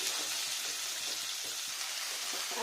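Cauliflower and tomato pieces fry in a pan for a vegetarian dish, a steady close sizzle with faint stirring clicks and scrapes throughout, no voices.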